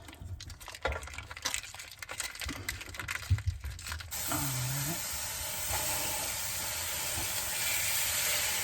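Steady broadband sizzling of chopped beef frying in a hot pan, preceded by clattering and scraping of utensils, continuous and fairly close.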